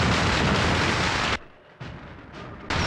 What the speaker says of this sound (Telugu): ఇక్కడ రకరకాల టపాకాయలు బాంబులు పేలుతున్న చప్పుడు వింటున్నావా?